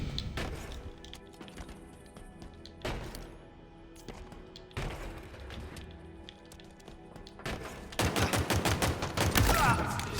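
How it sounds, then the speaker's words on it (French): Gunfire in the video game Halo Infinite: repeated bursts of automatic shots with heavy impacts, building to a dense rapid volley near the end. "J'ai tiré absolument partout sauf sur le mec"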